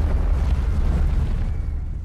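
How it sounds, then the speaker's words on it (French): A bomb explosion tears through a football field in a film scene, heard as a heavy, continuous low rumble with a loud, dense roar that barely fades. "comme dans The Dark Knight Rises, avec ce terrain de football réduit en poussière en quelques secondes suite à l'explosion"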